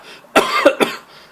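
A man coughs three times in quick succession, harsh and close, wet-sounding bursts with a brief breathy pause between them.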